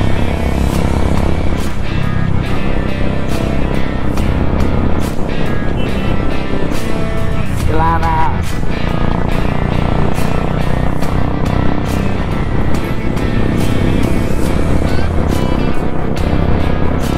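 A Royal Enfield Hunter 350 motorcycle crawls through a Bangalore traffic jam at evening, its engine droning loud and constant up close amid surrounding vehicle noise and a brief horn-like tone midway.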